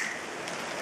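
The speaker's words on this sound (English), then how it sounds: "Rain keeps falling everywhere." Rain falling on plants, a brief steady hiss of dense drops pattering on leaves and surfaces, close and even, with no voices.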